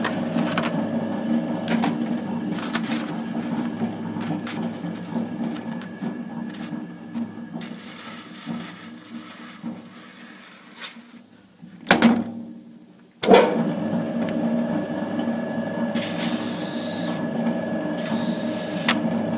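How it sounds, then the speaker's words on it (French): A prototype part being cut out along a traced line: a continuous mechanical whirring hum runs steadily up close, briefly stops with a couple of knocks, then resumes at the same level. "Et là je le découpe"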